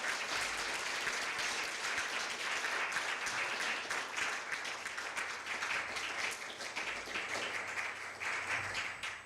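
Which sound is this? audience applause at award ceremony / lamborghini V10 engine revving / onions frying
audience applause at award ceremony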